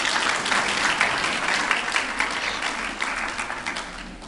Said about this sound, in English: One more round of applause for Amin, please.